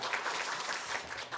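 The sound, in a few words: church congregation applause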